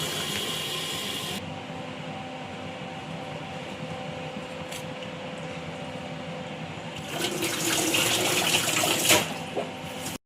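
Water splashes and pours into a pressure cooker holding soaked rice, a faint trickle at first and then a louder, gushing pour toward the end, with mechanical hum behind.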